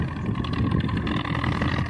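Tractor engine working a wheat field in a mountain pasture, a steady loud low rumble with continuous broadband noise throughout, no pauses or talk.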